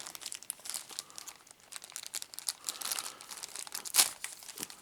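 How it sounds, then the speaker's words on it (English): A plastic Ziploc bag is pulled apart by hand, giving irregular crinkling and rustling close by, with one sharp crackle near the end. "That Ziploc does not want to open."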